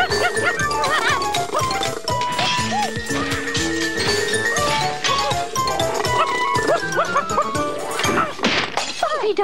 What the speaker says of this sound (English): Stop! Bumpy Dog, stop!